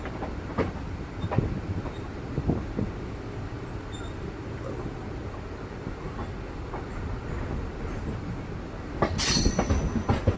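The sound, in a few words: MEMU electric train passing on track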